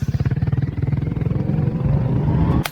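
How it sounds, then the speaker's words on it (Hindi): A Royal Enfield Hunter 350 motorcycle idles and revs nearby, its exhaust note a loud, steady thumping pulse that smooths into a rising drone before cutting off with a brief click. "Exhaust note royal Enfield lovers के लिए स्पेशल है।"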